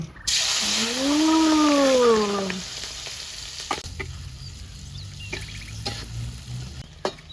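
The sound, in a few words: frying kijing freshwater mussels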